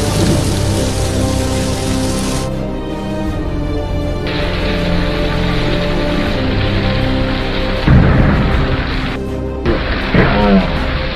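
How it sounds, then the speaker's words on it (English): Steady heavy rain pours over a low rumbling bed during a thunderstorm on the Midwest plains, with a few louder surges and crackles toward the end; no voices. "Millions in the plains and Midwest face the threat of tornadoes and thunderstorms again this morning"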